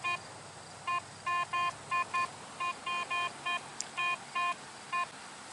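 A metal detector set to all-metal mode beeps over an iron target in a string of short, clear electronic tones, a dozen or so irregularly spaced pulses, with faint background noise between them.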